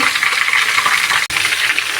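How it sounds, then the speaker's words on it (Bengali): Chicken pieces fry in hot oil for biryani as they are stirred in a pan, producing a dense, continuous close-up sizzle with a brief break near the middle and no voices. "মাংসটা ভাজা হয়ে গেছে, এখন আমি এটাকে উঠিয়ে নিব।"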